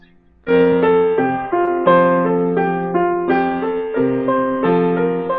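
Piano plays steady jazz eighth notes in a flowing pattern, the first of every four slightly stronger, sustained chords ringing beneath.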